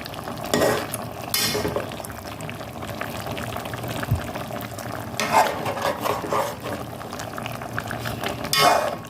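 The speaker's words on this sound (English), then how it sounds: "So I'm just giving it a quick stir" A spoon stirs steaming Jamaican-style fish in a pot over bubbling, simmering liquid, with scraping and sloshing strokes recurring every few seconds under a constant hiss of steam, close by.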